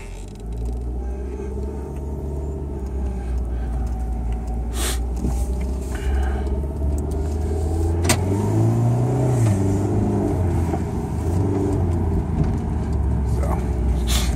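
A 1999 VW New Beetle with a slipping transmission drives slowly from a snowy driveway, its engine a steady low rumble that rises and shifts midway, with occasional clicks and knocks inside the cabin.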